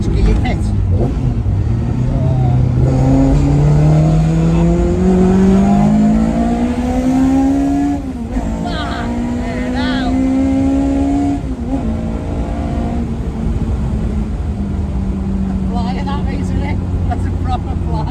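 The 250bhp 2.0 BDG engine in a Ford MK2 Escort rally car, fitted with a Type 9 gearbox and BDG gear kit, drones loud and close and climbs steadily in pitch, with people talking over it.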